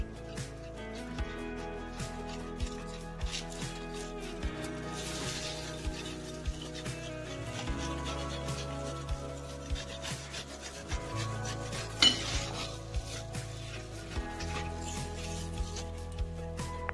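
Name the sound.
grating carrot on a grater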